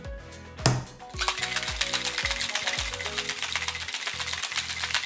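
Ice cubes and liquid clatter and rattle rhythmically in a metal shaker as a low-sugar vodka cocktail with club soda and lemon is mixed, a dense, steady shaking close up after a brief pour.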